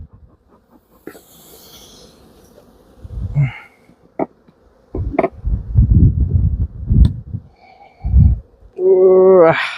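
Honeybees in an opened hive after smoking, heard close as scattered breathy puffs and rustling that give way at the end to a loud, steady buzz.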